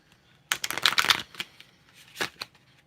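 A deck of tarot cards is shuffled by hand, a quick close riffle of crisp flutters for about a second, followed by a few softer taps and a second short burst.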